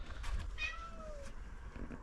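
A totally blind cat perched up in a garden tree house at a cat sanctuary gives a single clear meow, drawn out and falling in pitch, close by against quiet outdoor background.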